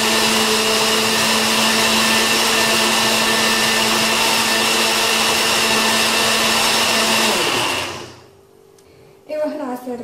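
An electric blender whirs loudly and steadily as it blends mango juice with lemon, then winds down and stops, followed by a brief clatter and a voice.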